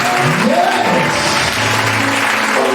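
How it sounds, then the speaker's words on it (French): A church congregation claps and cheers for Jesus, loud sustained applause mixed with shouting voices and a rising vocal call, filling the whole stretch. "Est-ce qu'on peut acclamer Jésus?"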